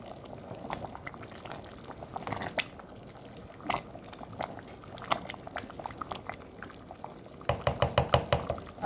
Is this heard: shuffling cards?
no